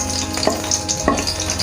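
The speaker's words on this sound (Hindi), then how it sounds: "अब मैं इसमें ये अपने कटे हुए प्याज डालूँगा" Chopped onions hit hot oil for chicken kachnar gosht, giving a loud, close sizzle with two sharp bursts of stirring and crackle over a constant frying hiss.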